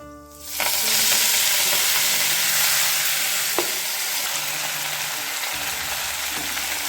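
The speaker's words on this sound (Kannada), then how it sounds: "ಚೆನ್ನಾಗಿ ಫ್ರೈ ಮಾಡ್ಕೊಳ್ಳೋಣ" Fenugreek leaves frying in a pan with cumin and curry leaves, a loud steady sizzle that starts abruptly and continues throughout, with an occasional light scrape.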